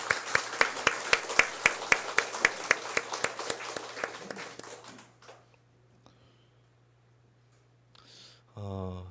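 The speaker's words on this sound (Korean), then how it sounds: "우리 삼남선교회에게 격려와 또 하나님께는 영광의 박수 올려드리겠습니다." A church congregation claps after a men's mission group performs, with dense applause for about five seconds that fades out, followed by quiet and then a brief burst of music near the end.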